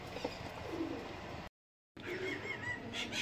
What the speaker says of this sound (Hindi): ये जरनैल वाली नस्ल में जोड़ी है, जीरा कबूतर है पाजी, काली चिन्नी मादा है